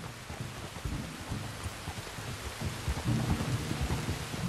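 Heavy steady rain with low rumbling thunder rolling underneath in the video game Red Dead Redemption 2, a continuous wash of stormy sound with no voices.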